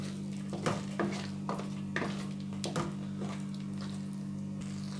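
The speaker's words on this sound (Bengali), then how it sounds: "আবার আমি নাড়তে থাকবো নেড়ে মিশিয়ে নেব আর একটু ঘন করে নেব" A wooden-spoon-style stir scraping through a thickening homemade aamsatta and khoya kheer mixture in a pan, a steady low hum underneath with soft periodic scrapes and a faint sizzle, close by with no talking.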